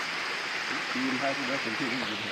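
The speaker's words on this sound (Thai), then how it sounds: "เบิ้งสายน้ำน้ำตก" Waterfall stream at Namtok Phiang Din, a steady broadband wash of flowing water filling the scene, with a voice speaking over it.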